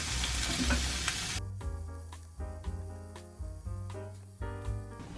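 Carrots stir-fry in olive oil: a loud sizzling burst at first, then quieter frying broken by several sharp clacks and scrapes of a utensil against the pan.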